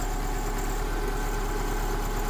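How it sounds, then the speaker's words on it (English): A Subaru Forester engine idles steadily after sitting unused for a year, a constant low rumble with a faint mechanical buzz, close and unbroken, with no talking. "we're gonna let the engine warm up a bit"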